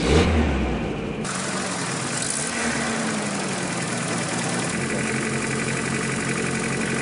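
A Toyota 22RE engine, just fitted with new injectors, cranks briefly, then catches and settles into a steady mid-pitched idle with a faint rising tone. It runs close and continuous with no talking.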